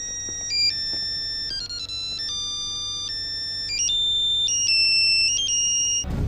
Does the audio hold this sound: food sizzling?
no